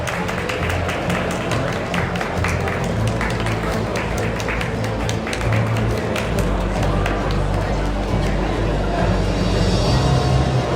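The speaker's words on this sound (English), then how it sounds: "A round of applause, please, for Team Redactor." Sustained applause from an event audience honouring a prize-winning team, loud, steady and dense clapping that carries on throughout with no break.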